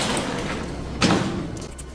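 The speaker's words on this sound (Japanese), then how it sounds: "ガレージドアちょっと閉じときましょうか。" A garage door slides shut in the stealth video game Hitman 2, landing as a single solid thud about midway through a steady bed of in-game ambience.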